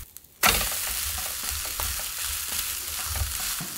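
Shrimp and chive pancake frying in oil in a pan, a steady close sizzle starting abruptly after a brief quiet moment and continuing with small crackles throughout.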